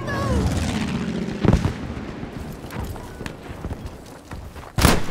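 Battlefield 5 gunfire in an Iwo Jima conquest battle: scattered booming shots and thuds sound over dense battlefield din, with one sharp, loud blast near the end and no clear speech.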